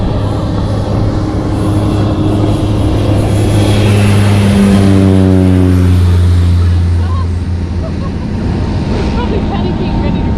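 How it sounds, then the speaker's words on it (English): A seaplane passes close by a private yacht in Sydney Harbour, its engine drone rising and falling as it goes by, heard over steady wind, water and boat noise with people talking. "There's a seaplane coming at us."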